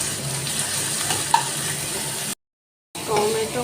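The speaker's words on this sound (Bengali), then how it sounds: "ভালো করে কষিয়ে নেব।" Ginger, chili and garlic paste sautés in a pan with a continuous loud sizzle and frying hiss, broken by a brief stretch of silence before the sizzle returns.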